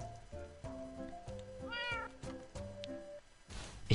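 Minecraft cats meow in a quick series of short, close calls, several overlapping cries over a few seconds with a brief noisy burst at the end.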